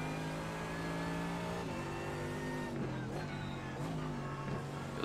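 A GT3 race car engine in the iRacing game at Watkins Glen during the formation lap holds a steady loud drone, with gear changes and revs shifting the pitch several times.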